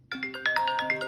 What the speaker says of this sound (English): Don't you just love the way those rotary dials sound?